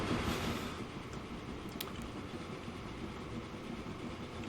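Train 42 rolls along the rail line in the tycoon game Transport Fever, a steady broadband rumble of wheels and carriages with faint clickety-clack, constant and alone at moderate level.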